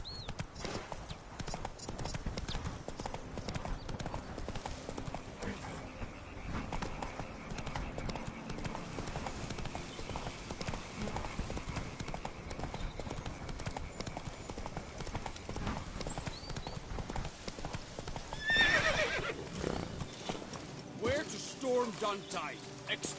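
Horse hooves clip-clop at a steady trot while a rider travels in a video game, quiet and continuous under voices and occasional game sounds.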